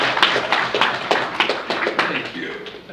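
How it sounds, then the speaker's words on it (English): Scattered audience applause at an e-learning talk, a handful of near, uneven claps spread over a few seconds and tapering off, with a voice heard faintly underneath. "I think that deserves an applause."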